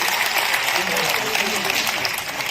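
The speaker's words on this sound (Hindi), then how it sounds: "हम जोरदार ताली से उनका अभिनंदन करते हैं।" Audience at a Delhi traders' gathering in Siri Fort auditorium breaking into loud, sustained applause, dense steady clapping filling the hall without pause.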